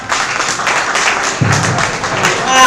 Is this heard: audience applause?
yes